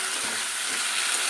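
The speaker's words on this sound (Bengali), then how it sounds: "মশলাটা একটু কষা হয়ে যাবে" Cumin and ginger paste frying in a pan for a fish curry, a short continuous hissing sizzle heard close and fairly loud, with no voices.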